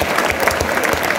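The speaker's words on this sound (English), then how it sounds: "A clap for our principal." A crowd of students at a high school closing assembly claps for the principal, dense steady applause filling the short moment without voices.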